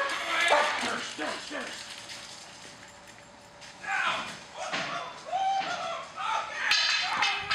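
A police K-9 dog barks in short, loud bursts spaced through the scene, mixed with shouted commands and movement noise.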